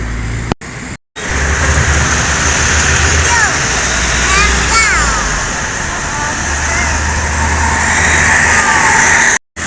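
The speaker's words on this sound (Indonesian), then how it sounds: "ini dia Universitas Sriwijaya busnya. Medium bus." A Universitas Sriwijaya medium bus drives past on a busy road at Indralaya, its engine rumbling loud and near amid traffic, with brief cutouts early on and rising tonal whines midway.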